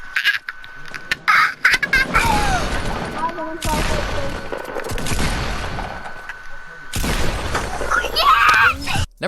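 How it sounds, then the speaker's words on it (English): Impulse grenade blasts in Fortnite Battle Royale, several loud bursting booms in quick succession with game effects, mixed under steady commentary. "let's go and watch a pretty cool clip of someone using the impulse nades"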